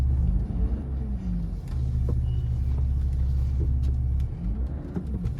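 A vehicle passes on the road with a deep, steady engine rumble close by, its tone rising and falling as it approaches and moves away.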